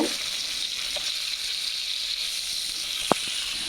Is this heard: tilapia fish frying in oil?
yes